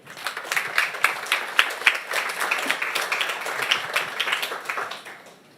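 Audience applause at a resilience conference talk, a dense steady patter of many hands clapping that continues for several seconds before tapering off at the end.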